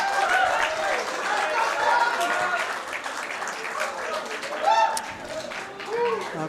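Applause from the crowd after the women's 9-ball world championship pool final, steady clapping across the whole stretch with cheers and voices mixed in.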